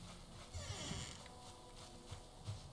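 Pig in a farm pen in the Valheim video game, grunting and squealing in short irregular bursts at moderate level over a low ambient game background.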